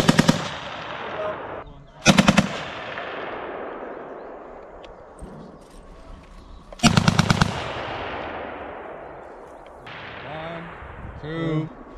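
Live-fire rifle shooting by U.S. Army soldiers on a training range; three loud rapid bursts of shots spaced several seconds apart, each echoing off into the distance, with someone talking quietly between them.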